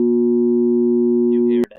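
A steady two-frequency tone passed through a simulated distortion pedal circuit holds a constant, buzzy pitch rich in added harmonics, loud and alone, then cuts off abruptly with a click and a faint trailing noise.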